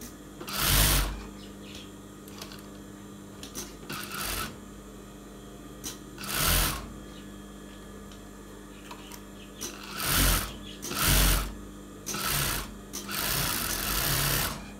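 Sewing machine stitching a school uniform shirt collar, running in several short loud bursts of rapid whirring and stopping between them over a steady background hum, close by.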